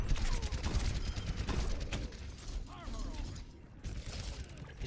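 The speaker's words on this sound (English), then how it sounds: "He's shooting my turret" Rapid gunfire in the video game Overwatch, a dense crackling barrage of shots and mechanical clatter that runs loud through the whole stretch, with faint talk mixed underneath.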